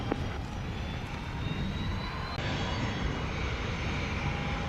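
A plane on the runway at Montego Bay airport in Jamaica gives a steady, continuous engine roar with a broad hissing wash that holds level throughout.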